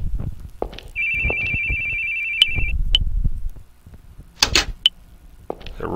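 In the horror video game The Boogie Man, a phone gives one steady electronic trill of about two seconds, close and clear, followed by scattered footsteps, thumps and clicks.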